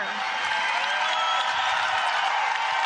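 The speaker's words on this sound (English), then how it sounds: "Crowd here in the barn is excited about that." Fans in Minnesota's basketball arena, the Barn, cheer and applaud during a Big Ten women's game against Ohio State, a loud, steady roar of crowd noise that fills the whole stretch while a commentator talks.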